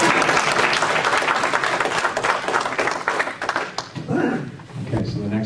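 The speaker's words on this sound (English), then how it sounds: "Now they can clap" An audience claps for the candidates at an equity debate on Pontiac council seats. Dense, steady applause fills most of the clip, then thins near the end as a few voices come through.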